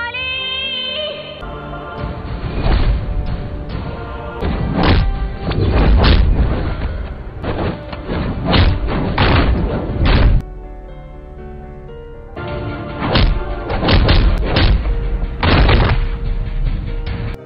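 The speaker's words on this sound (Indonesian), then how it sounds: "King lalu menyuruh anak buahnya untuk menghajar Fir" Film fight scene of fighters being beaten up, with repeated heavy punches, thuds and whacks landing in quick bursts over loud dramatic music and a brief lull midway.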